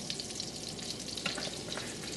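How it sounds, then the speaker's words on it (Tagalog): Butter with a little cooking oil sizzling in a pan, a faint, steady frying crackle with light pops and spits, no voices over it. "Ilalagay ko na itong kaunting cooking oil"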